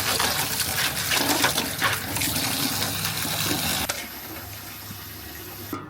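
Running water rushing steadily while fish is rinsed clean in a kitchen, loud and continuous before dropping to a quieter trickle near the end, with no talking.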